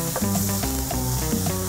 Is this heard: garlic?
yes